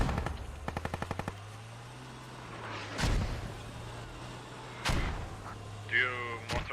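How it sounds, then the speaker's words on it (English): Mortar fire in a military shooter game, with a quick burst of rapid gunfire followed by two heavy booming impacts a couple of seconds apart over background battlefield noise. "Not sure whose mortars they are."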